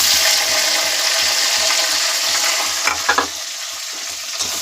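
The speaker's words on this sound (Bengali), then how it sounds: "পেঁয়াজটাও আমি কিছুক্ষণের জন্য ভাজতে দেবো" Whole garam masala, bay leaf and onion fry in a pan with a loud, steady sizzle, while a few quick scrapes of stirring sound near the end.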